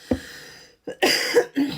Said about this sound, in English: Coughing it is.